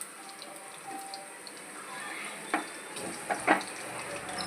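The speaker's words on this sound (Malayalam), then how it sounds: "2 ഗ്ലാസ് വെള്ളം ഒഴിക്കുകയാണ്." Two glasses of water are poured into a pot of biryani already cooking on the stove. The pour gives a soft, quiet splash with a few light clinks against the vessel.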